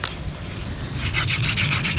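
A wooden hand drill spindle grinds into a wooden fireboard outdoors in a forest, making a continuous dry rubbing, sanding rasp that grows louder and more pulsing midway as the strokes speed up.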